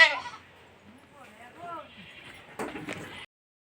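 Goats kept at a village home bleat in short, wavering calls, several in a row at moderate distance, among rustling and background noise, with a brief burst of louder sound near the end.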